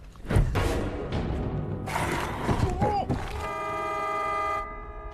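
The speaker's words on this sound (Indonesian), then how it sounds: "suara klakson truk itu tadi telah menarik perhatian para zombie" A loud, sustained truck horn blares over a busy mix of thuds and voices in a zombie film scene, holding steady for a couple of seconds before cutting off.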